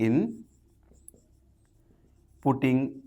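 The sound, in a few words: writing out an equation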